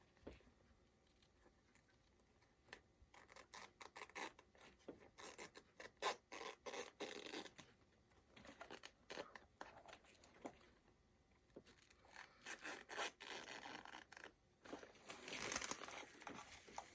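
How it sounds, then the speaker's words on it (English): Scissors cut through fabric for a no-sew gnome groom's hat, a steady rasping snip-and-slide that rises and falls in close, irregular bursts with no talking. "Once you get it started, it just usually cuts right along on the scissors."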